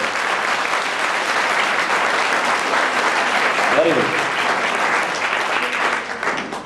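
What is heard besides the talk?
audience clapping loudly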